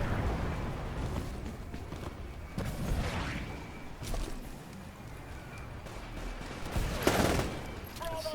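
SMG fire in a Titanfall team deathmatch, rapid bursts of shots mixed with booms and battle noise, loud and near.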